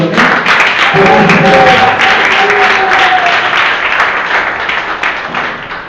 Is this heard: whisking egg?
no